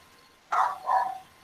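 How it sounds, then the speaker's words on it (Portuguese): A dog barks twice in quick succession, fairly close and clear, over faint room noise. "O cachorro acordou aqui."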